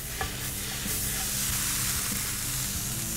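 Beef and broccoli stir-fry sizzles steadily in a hot pan as it is tossed, a continuous frying hiss with light stirring scrapes and clatter, close and even throughout.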